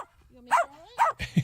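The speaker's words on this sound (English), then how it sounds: "The dog talking, of course." A dog makes whiny, talking-like vocal sounds that break into a few short, loud barks, close by.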